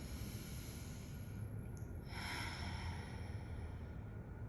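A slow, deep cleansing breath drawn in and released during a seated japa mala meditation, soft and close over steady room hiss, with a brighter rush of air near the middle and no talking.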